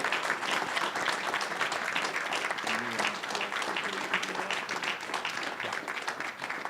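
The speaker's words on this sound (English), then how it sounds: "Let's give our two candidates a round of applause" A candidate forum audience for Minnesota House District 19B claps for two candidates in a continuous, dense round of applause that holds level throughout.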